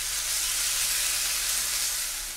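Three chopped green chilies sizzle in a hot skillet, giving off a steady, dense frying hiss that holds evenly throughout with no talking.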